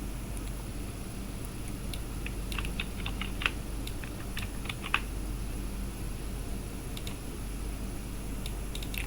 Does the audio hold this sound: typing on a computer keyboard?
yes